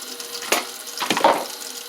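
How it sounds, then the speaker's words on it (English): A washed dish rinsed under a running kitchen tap, water splashing and gurgling close up in short bursts as it hits the surface inside and out. "Then I do a rinse on it. I rinse the outside and the inside."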